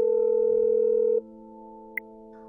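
A telephone dial tone hums loud and steady while a call is placed, then drops to a quieter continuous tone, with one brief click.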